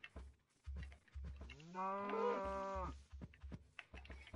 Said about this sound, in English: There's a cow.